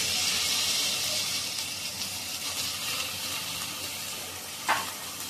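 Tomatoes hitting a hot pan with curry leaves while cooking gavar dhokali give off a steady hiss and sizzle, with a brief metallic clink near the end and no voices.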